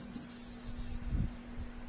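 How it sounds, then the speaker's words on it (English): Wet sanding of a lacquered finish on a Martin D15 acoustic guitar: a faint, steady rubbing scrape that continues without pause, with a low hum underneath and no talking. "This is called wet sanding."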